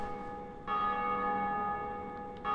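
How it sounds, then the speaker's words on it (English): Church bells ring inside the Dark Souls video game, a sustained metallic toll with steady ringing overtones that swells after a quiet start and holds loud and close, with no voices. "Someone just rang the bells."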